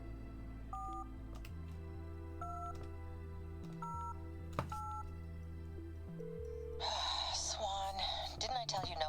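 Dialing a phone number in the video game Lost Records: Bloom and Rage, with a series of distinct keypad tones pressed at an uneven pace over a low steady hum, and a voice speaking near the end.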